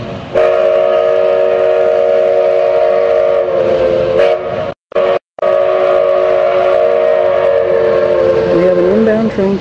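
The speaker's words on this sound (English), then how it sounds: "Train coming right now." A Durango and Silverton steam train arrives, its whistle sounding long, loud, sustained blasts with a brief gap partway through, while faint voices carry underneath.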